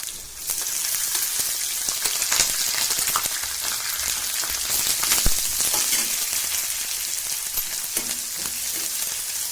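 Green chilies and onion frying in hot oil in a pan for a spinach bhaji make a loud, close, continuous crackling sizzle with scattered sharp pops, and no one speaks.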